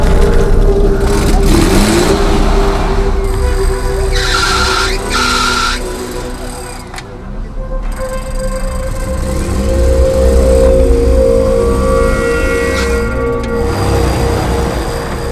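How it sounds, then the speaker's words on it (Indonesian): An off-road car's engine revs hard and steadily while towing a stuck jeep, with strained, fluctuating engine drone and tire scrabble running continuously throughout, loud and close. "Mobil lain berusaha menarik jeep yang saya naiki ini."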